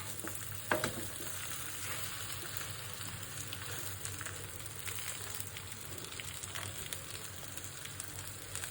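A large tilapia fries barbecue-style in a pan, sending up a loud, steady sizzle and crackle that runs the whole time, with a brief clatter near the start.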